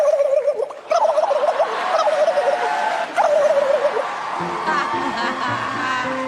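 A girl imitates a turkey, voicing a rapid warbling gobble twice in quick bursts, close and loud, followed by giggly laughter and softer vocal sounds.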